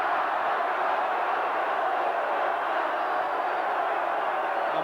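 A Derby football crowd at a 1990/91 First Division match against Nottingham Forest, a steady, dense roar of massed voices jeering and shouting at a player, loud and continuous throughout with no individual voice standing out.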